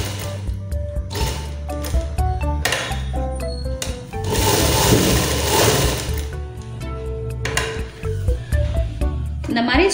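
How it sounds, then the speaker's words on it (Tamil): Sewing machine stitching an umbrella-pattern frock gown, running in short bursts of rapid mechanical clatter separated by brief pauses, with one longer continuous run in the middle. "ஸோ அதனால் நான் ரெண்டு தையல் போடுறேன்."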